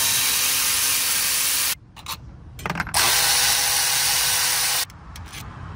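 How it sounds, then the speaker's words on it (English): Milwaukee Insider power ratchet driving a T30 Torx bit to remove bolts from an ignition coil on a Chevy Trax, two loud sustained whirring bursts separated by short pauses with faint clicks, close and alone. "we're just going to take our Milwaukee Insider with the T30 Torx bit on the end of it"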